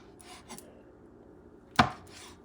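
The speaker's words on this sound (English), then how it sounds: "I'm going to create some cylinders by cutting it this way" A knife slices through a squid tube on a cutting board, giving one sharp, close chop after some faint rubbing and scraping.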